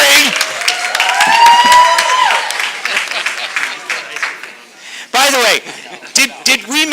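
Applause and scattered cheering from an audience at a Sayreville school board meeting, a steady clapping wash under a speaking voice, with a few brief louder bursts near the end.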